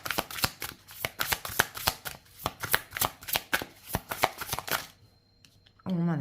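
Tarot cards being shuffled close by, a rapid series of crisp riffling bursts at a steady rhythm for about five seconds, then a pause before a voice begins speaking.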